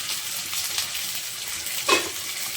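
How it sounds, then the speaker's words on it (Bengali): Malabar spinach stems and potatoes stirred in a cooking pot, a soft steady simmering hiss with a brief louder scrape of the spoon near the end. "একটু নাড়াচাড়া করে নিচ্ছি"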